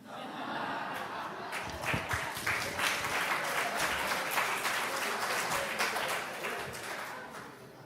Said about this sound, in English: I invite you to feel no pressure at all to hold back your applause this